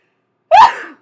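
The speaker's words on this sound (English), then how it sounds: "I'm gonna sneeze a bunch" A single human sneeze, a sharp close burst after silence that trails off quickly into a short breath.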